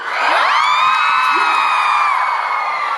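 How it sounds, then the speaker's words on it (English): Audience at a book tour event in Dubai whoops and cheers loudly, a sustained wave of high shouts and screams from a crowd that swells and holds for about three seconds. "if you want to cheer, you cheer"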